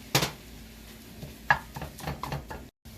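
Sausage meat being broken up in a pan with a utensil, a few sharp scraping knocks and clatters against the pan, close and otherwise quiet.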